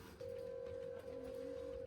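A telephone being dialed, heard as a steady electronic tone that starts after a brief moment and holds for nearly two seconds, with a short break partway through, close and fairly quiet.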